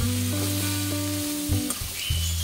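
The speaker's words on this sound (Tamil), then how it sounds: "இந்த எண்ணெயிலேயே நமக்கு வந்து இந்த உருளைக்கிழங்கு வந்து வேகணும்." Potatoes frying in oil in a pan on a gas stove kept on low flame, a steady close sizzle with a few brief stirring knocks, no voices.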